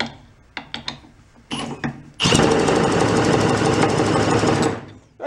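An 83-year-old antique marine pump engine is spun over by a drill in its chuck, starting with a few scattered clicks and knocks, then a dense, loud mechanical rattling whir that runs for about three seconds before stopping.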